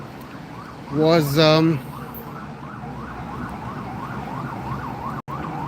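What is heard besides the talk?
sirens of passing emergency vehicles in New York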